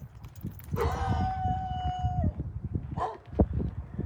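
A dog gives a drawn-out whining howl, then a couple of short yips, fairly close against faint outdoor background.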